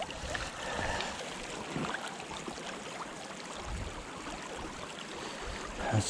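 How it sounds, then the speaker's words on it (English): A small stream flows while gold is panned in icy conditions, a soft, continuous trickle and rush of water, faint and steady throughout. "It's got a pretty good stream going here."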